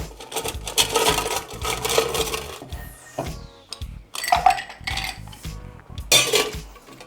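Ice is added for a bourbon nightcap cocktail with peach schnapps, giving bursts of clattering and clinking cubes against a shaker or glass, with a brief pause partway through.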